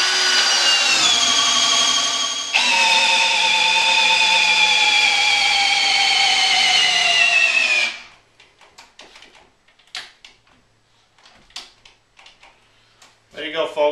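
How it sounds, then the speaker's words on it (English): A Milwaukee 18V brushless hammer drill drives a bit into wood, its loud, close motor whine holding steady for about eight seconds before cutting out, followed by scattered faint clicks and knocks. "So I'll just keep on drilling and we'll see how this all pans out"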